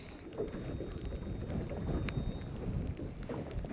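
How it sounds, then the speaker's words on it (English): Rain falls during a winter sea-fishing trip on the Scottish coast, a steady close hiss and patter mixed with gusty wind buffeting, with no voices over it. "I'm getting rained on."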